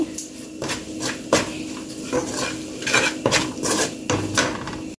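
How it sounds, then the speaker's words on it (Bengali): Spices and salt frying together in a pan for pumpkin curry, with repeated metallic spatula scrapes and clinks against the pan over a soft sizzle, close up. "সব মশলা আমি একসাথে কয়েক মিনিট ভেজে নেব"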